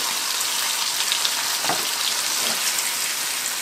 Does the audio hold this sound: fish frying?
yes